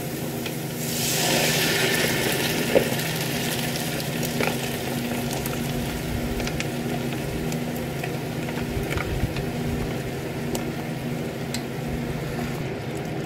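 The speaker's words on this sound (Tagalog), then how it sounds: "Lalagay na po natin ang ating Italian sauce." Italian sauce simmering in a pan with beef balls, a soft continuous sizzle and bubbling that swells after a second and then holds steady at moderate level, with occasional light stirring ticks and no voices.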